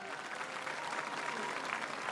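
Applause from a crowd of Oranje fans at the opening of the Koningsspelen in Dokkum, a steady, dense wash of clapping that holds at an even level throughout.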